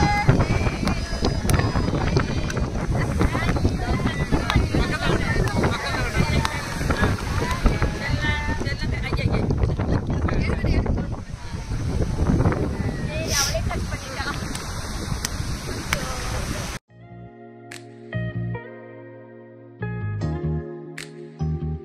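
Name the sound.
sea waves at night on the beach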